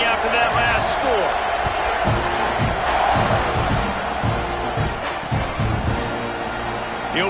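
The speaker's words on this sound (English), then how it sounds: "this crowd is buzzing after that last score" A football stadium crowd at a Utah State at ATM game buzzes loudly after a score, a dense, steady roar of many voices with occasional whoops and shouts, while a commentator talks over it.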